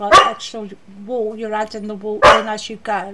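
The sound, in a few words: dog barking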